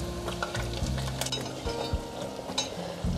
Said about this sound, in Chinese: 让它有点空隙，这样子可以比较炸得酥脆，也比较不会粘在一起。